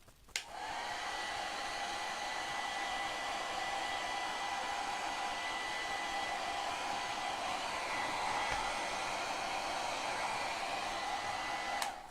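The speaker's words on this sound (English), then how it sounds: "now we'll just blow these dry for a second" A hair dryer blows steadily to dry freshly painted nail polish, a close, constant whooshing hum after a brief click at the start, with no talking.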